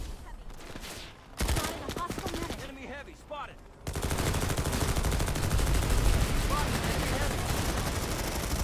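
Shotgun fire in a competitive LaneSmash 2021 video game match between TRTL and TLDR, loud dense gunfire bursts that swell and continue steadily through the second half, with a commentator's voice heard earlier.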